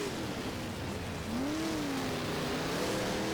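A Big Block Modified race car engine in the rFactor video game drones and revs on a dirt track, a steady mid-pitched tone that rises and falls with throttle, moderately loud and alone.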